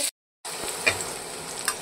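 Oil sizzles softly and steadily with crushed garlic frying in it after a brief moment of silence, with a couple of faint clinks from a utensil.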